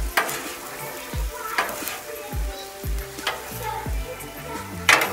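Spaghetti is folded into Bertolli olive oil, basil and garlic sauce on a hot Blackstone griddle, a steady close sizzle broken by repeated spatula scrapes and clanks on the steel in an uneven rhythm.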